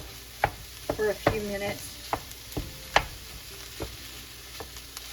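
Sausage sizzles in a pot of pasta while a utensil breaks it up, giving sharp, irregular scraping knocks over a steady crackle. A person speaks briefly over the cooking.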